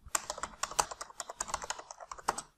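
Rapid, close clicking of a computer keyboard as C program code is typed, steady bursts of keystrokes with no talking over them.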